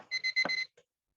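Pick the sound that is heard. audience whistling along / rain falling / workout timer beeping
workout timer beeping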